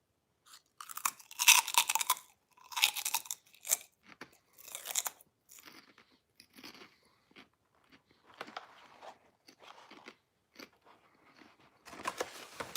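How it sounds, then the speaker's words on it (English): A late-night snack is crunched and chewed close to the mic in ASMR style, loud crisp bites in bursts followed by quieter chewing, with no talking. "I know some people like all the crunching and the noise."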